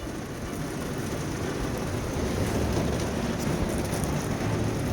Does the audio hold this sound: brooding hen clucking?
no